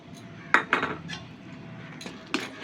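Metal spoon clinking and scraping against a bowl while patishapta pitha batter with powdered milk is mixed, a few sharp taps with quieter scraping between, close and alone.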